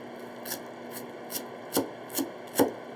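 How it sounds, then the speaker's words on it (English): Knife chopping green onions on a cutting board during preparation for bulgogi Korean BBQ beef: five crisp, evenly spaced chops, close and fairly clear, the later strokes landing with a firmer thud. "That's how you would chop these green onions."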